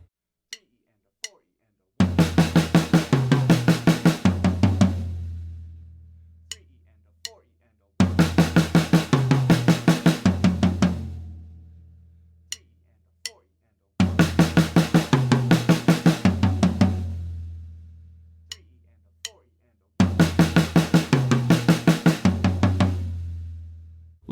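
A drum kit plays the same 16th-note fill four times, using the rack tom and one other drum. Each fill is a fast, even run of close, crisp hits ending on a ringing decay, and short pauses with a few isolated stick clicks sit between the fills.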